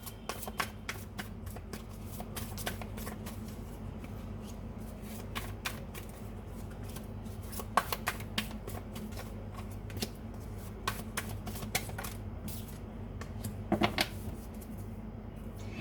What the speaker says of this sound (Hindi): मुझे थोड़े से कार्ड्स यहाँ पर लेने पड़ेंगे आपके आंसर को डिटेल में पता करने के लिए